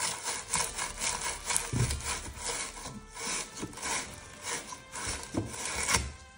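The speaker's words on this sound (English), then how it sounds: "take your deburr tool here and just get the inside nice and" Deburring tool rasping around the inside of a copper water pipe, a quick series of close scraping strokes with an uneven rhythm, moderately quiet and heard alone.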